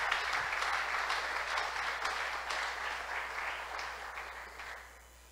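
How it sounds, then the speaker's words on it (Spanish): Steady applause from a church congregation fills the room, a dense, continuous patter of many hands that holds even for several seconds and then eases off toward the end. "Si le vas a dar un aplauso, dale el aplauso al Rey."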